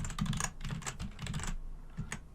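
Fingers typing on a computer keyboard, a quick close run of clicking keystrokes in uneven bursts with brief pauses between them.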